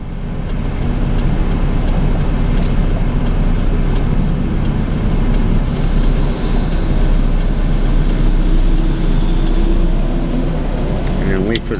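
Steady, loud wash of road traffic rolling past, with cars and heavier vehicles blending into a continuous roar and a brief higher whine near the end; someone talks over it throughout.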